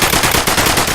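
Rapid video game machine gun fire built as a sound effect in Wwise, a loud, close burst of evenly spaced shots in a tight repeating rhythm.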